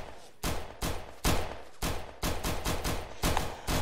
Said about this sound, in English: So naturally, instead of actually doing any scouting, they just shot at it with their pistols.